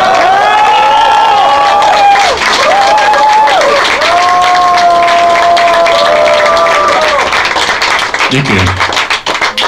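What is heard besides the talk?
audience applause for the band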